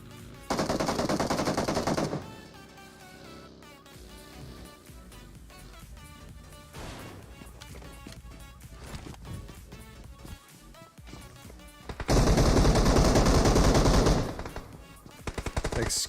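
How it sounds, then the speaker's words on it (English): Automatic gunfire rattles in two loud, sustained bursts during a PUBG Mobile tournament match, with quieter game sounds and scattered shots in between. "Oh my goodness, the drop shots from Matt"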